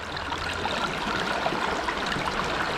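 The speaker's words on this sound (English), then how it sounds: "It looks like it's running pretty nicely, that sluice, to me. I like the speed of the water" Water rushes steadily through a gold panning sluice running over green mats, a constant broadband wash of flowing water at close range with no talk.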